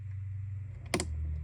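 A single sharp click as a screw tightens on a Thermalright CPU contact frame, close and crisp against a steady low hum.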